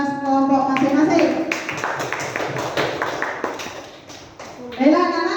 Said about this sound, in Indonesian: Untuk 3 kelompok ini kita berikan tepuk tangan yang meriah untuk hasil kerja keras kelompok masing-masing.